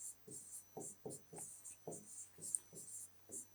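Chalk or marker strokes on a board during a grade 11 science lesson, eight or nine short scratchy bursts in an uneven rhythm, faint and close, with no talking over them.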